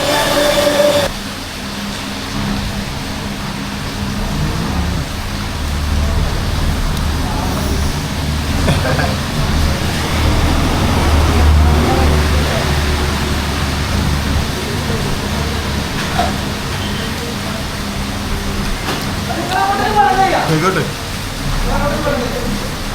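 Heavy, nonstop rain falls during flooding, making a dense, unbroken roar that fills the whole stretch. A voice can be heard faintly now and then beneath the downpour.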